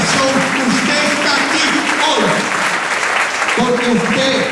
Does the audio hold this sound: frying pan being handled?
no